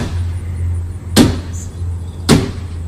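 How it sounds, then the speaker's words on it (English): Two heavy, separate metallic bangs ring out as a 3-foot wrench strikes a Corvette's sheet metal body panels, each blow sharp and loud over a low idling hum. "what it would sound like to really beat the hell out of a Corvette with a 3-foot wrench"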